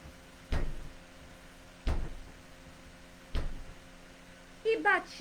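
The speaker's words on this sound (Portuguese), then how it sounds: "As janelas e portas se abriam." Sound effect of windows and doors banging open in a storm: three heavy thumps spaced evenly apart, each with a short rattling decay, then a brief voice right at the end.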